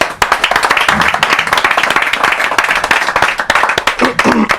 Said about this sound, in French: je vais vous demander d'applaudir quand même pour les nouvelles noirs